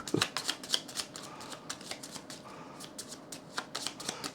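A deck of board-game cards being shuffled close by, a run of quick crisp riffling flicks with short pauses, fairly quiet with no voices.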